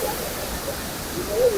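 Rushing water of the Bakwezi and Nyakasura falls in Uganda, fed from the mountain, a steady broadband roar nearby with a faint voice briefly in the background.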